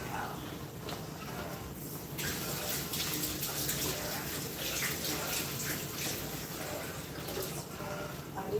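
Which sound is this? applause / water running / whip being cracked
water running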